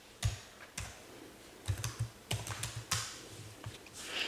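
Fingers type on a computer keyboard in a close, irregular run of soft clicks and taps, with some uneven pauses between keystrokes.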